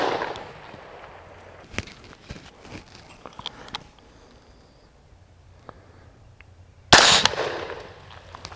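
A single sharp, loud pistol shot cracks out at an outdoor range from a handgun fitted with a CVLife Foxspook red dot, preceded by faint handling clicks and footsteps.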